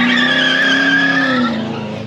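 Loud, close tire squeal from a car drifting on a track, a sustained high screech that holds steadily for about two seconds before fading slightly, with engine noise underneath and no talk.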